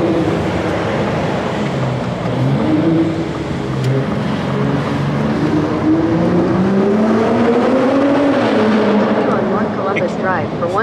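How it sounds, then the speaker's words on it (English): The active exhaust of a 2021 Ford F-150 Raptor pickup revs loudly up and down, rising and falling in pitch as it accelerates, with a voice talking over it at times. "we can hear the active exhaust of the Raptor."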